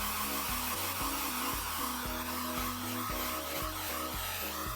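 A hair dryer blows steadily and loudly, held from directly above to dry a freshly laid watercolor wash, its constant whooshing roar filling the whole stretch with no talking.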